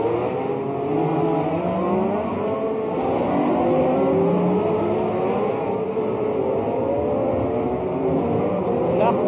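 Race cars of the 1967 Monaco Grand Prix, Honda among them, roar past on the street circuit, a continuous engine drone rising and falling under a commentator talking throughout.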